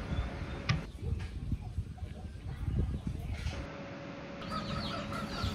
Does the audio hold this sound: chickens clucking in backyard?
yes